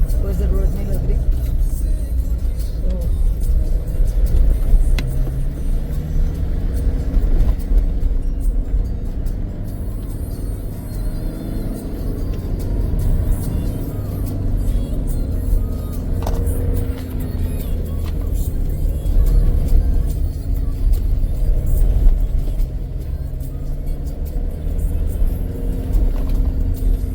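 Car driving on a mountain road in the hills, a steady low engine rumble and road noise throughout, with someone talking over it.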